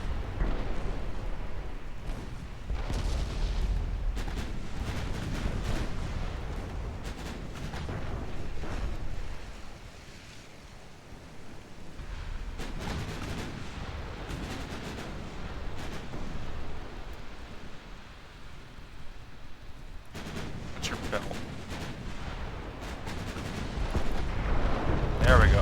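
Heavy naval gun salvos from battleships firing armor-piercing shells in Ultimate Admiral Dreadnoughts, a Rising Sun campaign battle with Yamashiro; repeated deep booming blasts in clusters with rumbling gaps between volleys.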